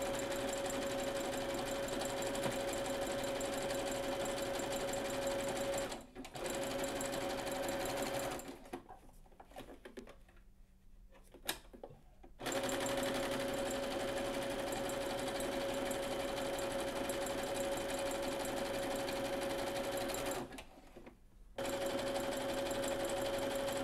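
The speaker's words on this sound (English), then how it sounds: "I'll go ahead and sew my wording together using a zigzag stitch." A sewing machine runs a zigzag stitch on corset fabric, a continuous close mechanical whir with a steady tone, pausing twice briefly before restarting.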